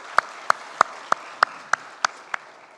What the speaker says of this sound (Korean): 우리 큰 박수로 감사해 주시고 축하하겠습니다